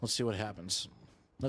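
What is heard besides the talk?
No everyday noise stands out behind the speech.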